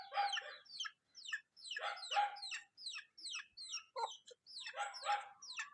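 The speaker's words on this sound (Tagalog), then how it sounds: "Naiyak ang aking manok." Chickens kept with ducks make a run of repeated, clucking calls near the microphone, coming in several bursts with brief gaps between them. No one talks.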